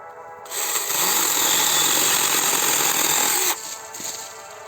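A small battery-powered mini pruning chainsaw bites through a tree branch outdoors, a loud, bright, steady buzzing whine lasting about three seconds before cutting off sharply to a quieter idle hum.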